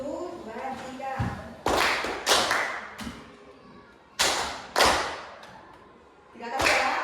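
A class claps in short sharp bursts in a rhythmic clapping game with brief pauses between them, loud and close, with voices chanting counts in Indonesian in between.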